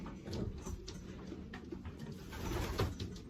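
Young pigeons in a new 8 by 6 young bird loft give soft, low cooing calls that keep up steadily over faint rustling and ambient hum, close by, with no talking.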